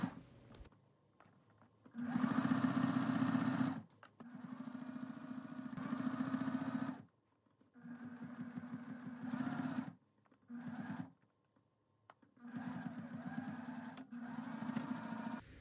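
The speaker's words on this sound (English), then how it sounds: "take them to your sewing machine and sew with a straight stitch down the side seams with a 1/2 inch seam allowance" A sewing machine running a straight stitch down the side seams of a balloon skirt, humming in several bursts of two to three seconds separated by short pauses, close and clear.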